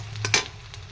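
Half-fried onions sizzle steadily in a pan for a prawn curry, broken by a couple of quick spatula scrapes, before the sound cuts off abruptly.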